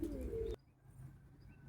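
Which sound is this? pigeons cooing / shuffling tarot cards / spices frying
pigeons cooing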